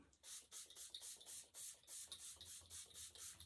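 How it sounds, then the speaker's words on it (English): A rapid series of short hissing spritzes from a Morphe setting spray bottle onto a face, about a dozen quick bursts in an even rhythm, close and quiet. "I'm going to put a little bit of Morphe spray on my face"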